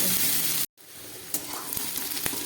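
Onions frying in oil for a dried fish dish, a close steady sizzle broken by a brief gap, then resuming with light spatters.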